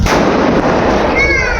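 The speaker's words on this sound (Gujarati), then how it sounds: "અને બધા ફોડે ફટાકડા" Firecrackers go off in celebration of India's cricket win during a village mass wedding festivity, a very loud, close, continuous barrage of blasts that saturates everything with no pause.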